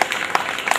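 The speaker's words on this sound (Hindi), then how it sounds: "ताली के साथ स्वागत कीजिए।" An audience at a Hindi poetry recital applauds to welcome a poet, a brief burst of dense clapping from the crowd lasting under a second.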